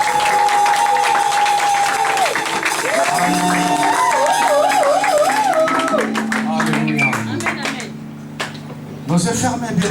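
A church congregation applauding and cheering, with sustained singing, organ-like keyboard tones and crowd noise over the clapping, loud throughout and dropping slightly near the end before swelling again.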